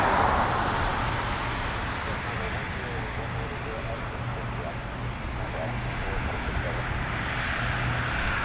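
A US Air Force military aircraft such as a KC-135, MC-130J or C-146 flies a low approach or touch and go at RAF Mildenhall, its engines making a steady broad roar that lasts throughout with a faint tonal hum underneath.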